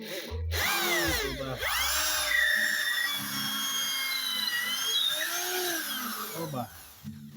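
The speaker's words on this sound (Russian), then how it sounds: "скотч-брайт наматываем на дрель, на сверло" An electric drill with a Scotch-Brite pad wound onto the bit whines as it polishes corroded brake-pad seats on a Mercedes Vito 639. The pitch rises and falls under load, with a brief spoken word.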